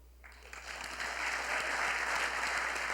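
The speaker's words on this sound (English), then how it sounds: "You can applaud." Audience applause at a cultural heritage symposium, a steady broadband clapping that starts abruptly and swells to a full, sustained ovation across the room.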